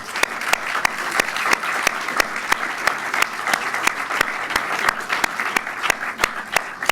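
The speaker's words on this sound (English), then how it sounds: "can we at least give him a round of applause?" Audience applause at a film school Q&A with director Mike Leigh, a steady close wash of clapping with sharp individual claps standing out throughout, no talk over it.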